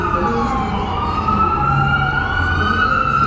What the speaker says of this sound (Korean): 한국과는 비교도 안 되는 소방차의 사이렌 소리를